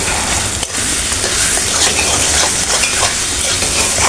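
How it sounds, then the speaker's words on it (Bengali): Taro leaves (kochu shak) sizzle steadily while being stir-fried in a pan, a dense continuous frying hiss with scraping stirring strokes close by, no voices. "ভালো করে কষায় নেব।"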